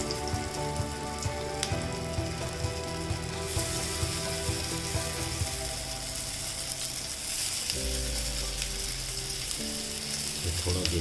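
Aloo tikki potato patties frying golden in oil, a second batch in the pan, make a dense, steady sizzle like rain, close and continuous, with a few faint clinks.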